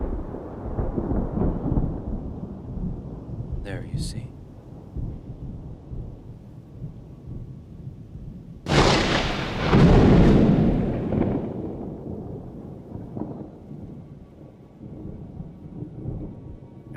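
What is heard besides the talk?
thunder peals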